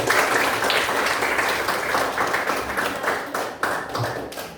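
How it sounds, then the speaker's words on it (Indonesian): Classroom of junior high students clapping together for themselves, a dense, steady round of many hands lasting several seconds with a slight dip near the end. "Oke, tepuk tangan buat kita semua"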